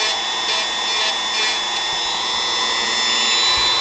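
Close, steady high-pitched whine of a rotary tool fitted with a sanding attachment, grinding away at a carved model piece, continuous and loud throughout with slight surges in pitch.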